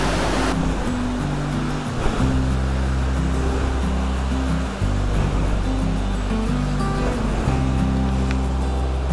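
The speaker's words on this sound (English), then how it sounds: "This is the Bamchu River, which is again a tributary of the Siom River or the Yekapchu River." The Bamchu River, a tributary of the Siom or Yekapchu River near Mechuka in Arunachal Pradesh, rushes loud and close as a continuous broadband roar of fast-flowing water, with no talk and a low musical drone underneath.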